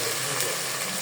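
Chopped onion and ginger garlic paste frying in a pan, a loud, dense, continuous sizzle and crackle filling the moment with no speech.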